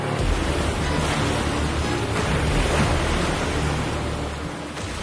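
Strong sea waves surge continuously against an ancient temple shore, a loud, steady broadband wash of surf with wind, no voices heard.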